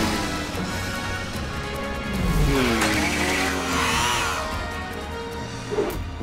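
Cartoon car racing by on its wheels, with engine whoosh, tire squeal and skidding rising loudly in the middle, then a brief crash-like hit near the end, with no talking.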